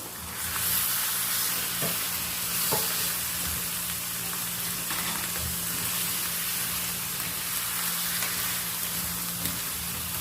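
Chicken sizzles steadily in a hot pan with garlic-ginger paste, a dense, constant crackle with occasional sharper pops and stirring scrapes.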